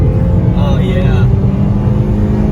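A Honda project car's engine rumbles loud and close in a continuous low growl with a slight rise in pitch, and a voice is briefly heard over it.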